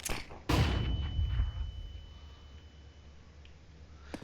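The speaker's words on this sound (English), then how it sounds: "Deploying flashbang." Flashbang grenade going off in a tactical shooter game on the Nuke map, a single sharp loud bang followed by a ringing tone and a fading rumble.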